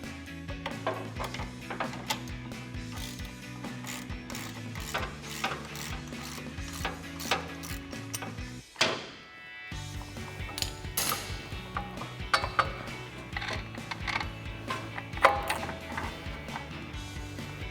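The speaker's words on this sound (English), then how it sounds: "I've got an 18mm ratcheting wrench to take that off." An 18mm ratcheting wrench backs off the top shock nut on a 2019-2023 RAM 1500 front strut, its steady pawl clicks running under continuous background music, with a short pause midway.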